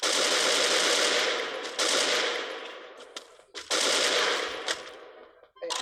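Rapid automatic gunfire from a shooting video game, loud and sustained in long bursts with brief gaps and short trailing shots.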